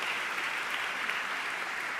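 Dense, even applause from an awards ceremony audience, celebrating David Wagner and Florida Blue, a continuous wash of clapping with no voices over it.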